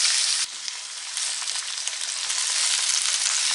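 Chopped vegetables hit hot oil in a pan with garlic, giving a loud, steady sizzle and crackle that builds slightly as they fry, close up with no talking.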